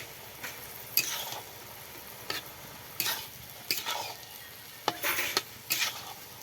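Fried potatoes being stirred in a pan with cumin and coriander powder, each scrape of the spatula a short scratchy burst at an uneven pace over a soft sizzle, close up with no voices.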